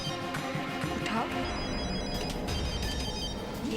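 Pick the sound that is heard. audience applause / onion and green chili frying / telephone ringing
telephone ringing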